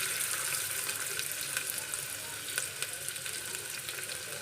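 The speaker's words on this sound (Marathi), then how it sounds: "आता यामध्ये आपण तेल आपलं छान गरम झालेलं आहे, तर यामध्ये आपण सर्वप्रथम कांदा घालून घेणार आहोत।" Onion fries in hot oil inside a pressure cooker with a bright, hissing crackle that holds fairly level, broken by a few light clicks and scrapes.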